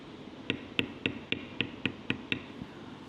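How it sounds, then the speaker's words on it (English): Leather tooling: a metal beveler struck with a mallet along a leaf stem on a tally book cover, eight or nine crisp, evenly spaced taps close by, then quiet. "The first thing I'm going to do is bevel down the stem."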